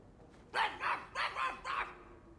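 Dog barking in the video game Dragon Age 2: five quick, fairly loud barks in a steady rhythm, alone without talk.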